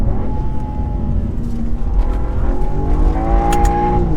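A powerful new BMW M2 engine revs and accelerates steadily, its pitch climbing through the gears, loud and close with no talking.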